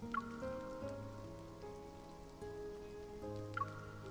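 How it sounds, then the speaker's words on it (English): Heavy rain in a video game scene pours down as a steady wash of patter, with soft drips and splashes over a layered, sustained musical background and no speech. "Look how heavy the rain is."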